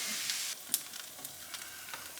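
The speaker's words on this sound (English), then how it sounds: "I'm going to fry you a goat's cheese." Goat's cheese frying in a pan in a home kitchen, a soft steady sizzle with a few brief crackles and pops, fairly quiet and without talk.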